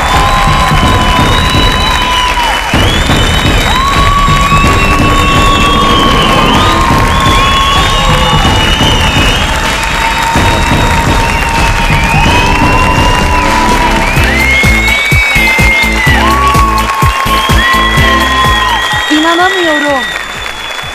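A large studio audience bursts into loud, sustained applause and cheering with whoops and shouts as a performer is introduced on a Turkish television show, with music and a presenter's voice over the crowd throughout.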